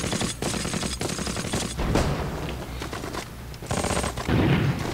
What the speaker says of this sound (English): Lay some suppressive fire, charge in over the trench